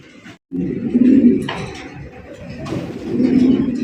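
Pigeons at a breeding loft cooing low and steady, close by, with a brief gap near the start and a faint knock partway through.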